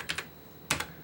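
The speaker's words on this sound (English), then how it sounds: "Some of the keys are sticky, so I'm pushing the wrong characters" Sticky keys on a Commodore SX-64 portable computer keyboard being pressed, two quick clicks, a pause, then two more, close and moderately quiet with no voices.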